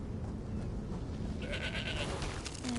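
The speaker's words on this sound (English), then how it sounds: "Oh, little sheep." Sheep bleats inside a PS4 video game, small and fairly soft, arriving in a couple of brief wavering calls over a steady background of game ambience and low rumble.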